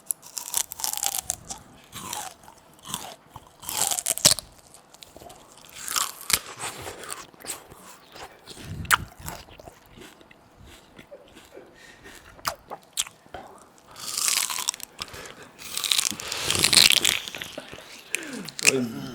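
Loud, close crunching bites into fibrous sugarcane followed by juicy chewing and squishing, repeated in bursts, with people talking and laughing between mouthfuls.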